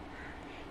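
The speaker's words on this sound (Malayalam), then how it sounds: "കാക്കയുണ്ട് കാക്ക എപ്പോഴും ഇങ്ങനെ വിളിക്കും" A crow calls near a house, one short harsh caw over a noisy, fairly faint background.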